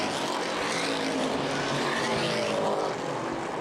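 Race cars circle the track in the closing laps of the Winchester 400, producing a loud, steady engine roar that holds without pause and with no clear single pass.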